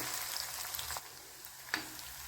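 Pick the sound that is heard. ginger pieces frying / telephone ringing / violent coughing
ginger pieces frying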